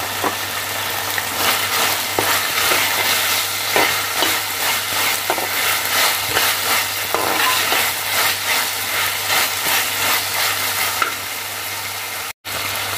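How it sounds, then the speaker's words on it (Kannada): Oil tempering poured into a vangibath gravy sizzles and crackles in a pan, a steady loud fry with brief stirring scrapes, continuous for several seconds before cutting out near the end. "ಈ ಹಂತದಲ್ಲಿ ನಾನು ಮಾಡಿಟ್ಕೊಂಡಿರೋ ಒಗ್ಗರಣೆನ ಹಾಕ್ತಾ ಇದ್ದೀನಿ."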